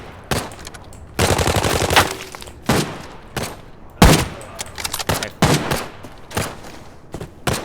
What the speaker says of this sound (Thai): ข้างบนมันยิงยิงใคร คนหรือบอทยิงกันเนไหม